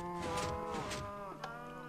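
Minecraft cows let out a couple of low, drawn-out moos, close and fairly quiet, one call running into the next with no other sounds around them.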